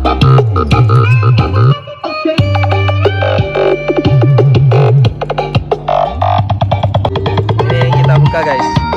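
A miniature 15-inch subwoofer speaker setup plays loud music with a deep, pulsing bassline and a melodic line on top, continuous and close, with no talking over it.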